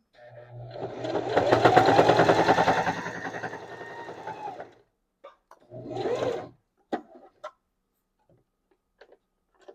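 A sewing machine stitches fabric slowly for a pillow, running a rattling burst of about four seconds, then a shorter run, followed by scattered clicks and taps of handling.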